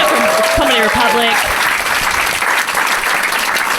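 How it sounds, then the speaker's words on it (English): Audience applause at a live comedy podcast show, loud and sustained clapping from a full crowd, with a voice briefly speaking over the start. "Give yourselves a round of applause."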